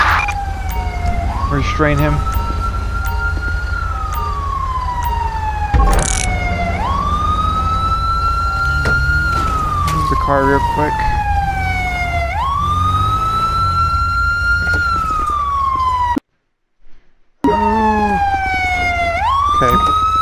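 A loud ambulance siren from LSPDFR in Grand Theft Auto V wails up and down in repeated cycles, cutting out briefly near the end, while people speak over it.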